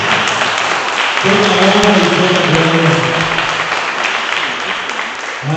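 A church congregation claps loudly and steadily at a Sunday celebration service, while a voice speaks and sings over the dense clapping throughout.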